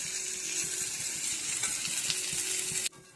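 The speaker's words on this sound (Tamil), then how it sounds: "மீனை அப்படியே எடுத்து இப்போ நம்ம தோசைக்கல்ல அப்படியே வச்சுக்கலாம். பொரிச்சு எடுத்துப்போம்." Masala-coated fish fries on a hot dosa griddle with a loud, continuous crackling sizzle up close, then cuts off abruptly just before the end.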